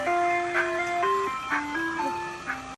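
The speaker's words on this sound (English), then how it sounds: "William hooked up his Bluetooth speakers to the outside of the truck so he could pretend he was the ice cream man" An ice cream truck jingle, a bright, stepwise electronic melody, plays from Bluetooth speakers mounted on the outside of a 2002 motor coach, steady and moderately close with a faint hum beneath.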